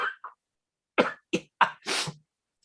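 A few short coughs in quick succession, close and dry, separated by brief silences, ending with a longer breathy cough, from an actor in a reading of a Chekhov play.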